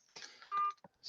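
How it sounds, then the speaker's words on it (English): Electronic call-in beeps and tones during a livestream, a quick sequence of bright bleeps and a sustained tone, close and clear, with no voices. "I don't know if you guys could hear all those beeps coming in"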